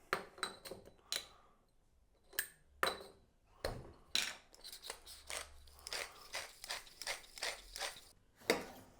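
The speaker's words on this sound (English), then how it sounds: "Absolutely finest pepper mill" A pepper mill grinds black pepper in a series of short, sharp, crunchy ratcheting twists, the bursts irregularly spaced and close up, with brief quiet pauses between them.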